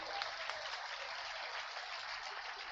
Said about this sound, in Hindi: हम भी ताली बजा रहे हैं.